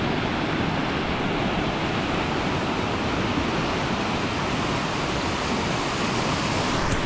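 A river in Bolzano rushes past in a dense, continuous broadband wash of flowing water, steady and fairly loud throughout, with no voices.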